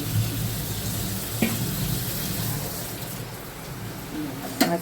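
Water poured into a cooking pot while making khichuri on a rainy day, a steady close pouring wash lasting throughout, with a couple of brief clinks and faint background hum.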